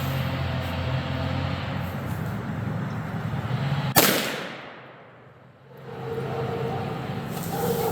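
A single sharp rifle shot from a Savage Axis in .243 Winchester, loaded with Red Dot powder and fired at a 50-yard range, cracks loudly and close, then fades, with steady outdoor background noise before and after.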